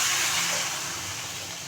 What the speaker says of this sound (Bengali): এখন হচ্ছে ঝোলের পানি দিয়ে দিব।